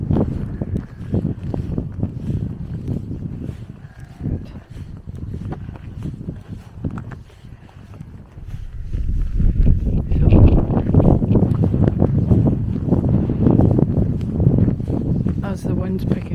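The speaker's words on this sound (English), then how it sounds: "As the wind's picking up again" Wind blows outdoors with a steady low rumble that buffets the microphone, growing stronger and gustier in the second half. No one speaks.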